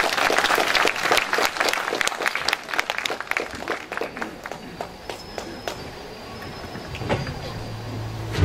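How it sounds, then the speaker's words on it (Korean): An audience at a patriotic poetry-recital concert in Gangbuk, Seoul applauds with dense, crisp clapping. The clapping thins gradually over several seconds, leaving scattered claps and a faint steady tone near the end. "여러분 큰 박수 부탁드리겠습니다."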